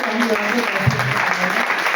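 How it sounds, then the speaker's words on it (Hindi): At a Hindi-language business plan seminar, an audience claps together in a brief, continuous burst of applause, fairly close and even, mixed with a faint hum of voices. "तो अपने लिए एक बार तालियां बजाइए"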